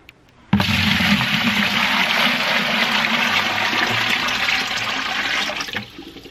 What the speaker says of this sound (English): I'm going to use a bucket as my source and I'm going to pour this in here